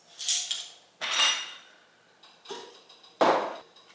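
Glass jars for vegan spaghetti sauce are set into a warm oven, giving four separate clinking knocks of glass on metal racks, close and sharp with brief rattling after each.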